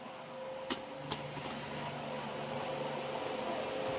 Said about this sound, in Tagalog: Maingay lang yung electric fan natin